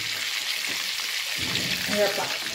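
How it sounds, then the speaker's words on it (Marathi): Bangda mackerel, coated with rava, fries on a tava griddle with a soft, steady sizzle and crackle. A brief louder stir or scrape comes near the end as the fish is flipped. "आता हा ना एका बाजूने तळला झाला, आता याला पलटी मारायची अशी,"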